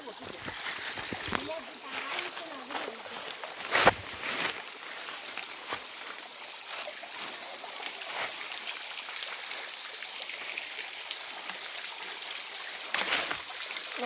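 A cold stream flows and trickles with a soft, steady hiss, heard fairly quietly alongside a few light knocks and footstep-like sounds.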